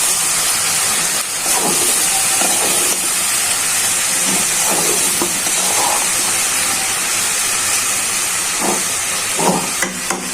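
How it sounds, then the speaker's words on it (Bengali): Spiced vegetarian brinjal (eggplant) with chopped chilies fries in a pan, giving a steady, loud sizzle and hiss throughout with a few faint clinks and no talking. "এখন ভালোভাবে মশলা দিয়ে বেগুন ভাজাটা করে নিই।"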